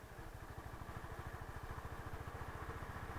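A Honda CB350 motorcycle engine runs in third gear at about 30 km/h. It throbs steadily at low revs with an even, pulsing beat against broad road and wind noise.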